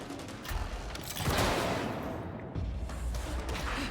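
Sniper gunfire in the Warhammer 40,000 game Darktide sounds as a few sharp shots over a dense game soundscape, with a loud burst near the middle, then continued background rumble.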